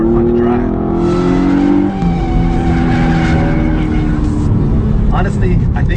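A 2014 Hyundai Genesis Coupe 3.8L drifting on a track, its engine droning loud and steady with a pitch shift near the two-second mark, while a person talks over it throughout.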